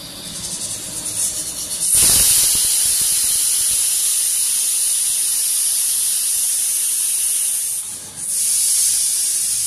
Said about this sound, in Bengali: আর এখানে দুধটা ফুটিয়ে নিচ্ছি